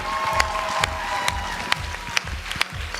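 A TV talent-show audience gives a burst of applause for a hip-hop group, with scattered claps over a thumping music beat.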